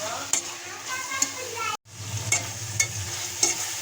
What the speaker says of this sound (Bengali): মশলাটা ভালোভাবে ফ্রাই করে নেব।